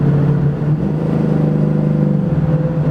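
A 1968 C10 pro-touring truck cruises with its engine and SpinTech muffler exhaust humming low and steady, a smooth, moderately loud drone with slight rise and fall.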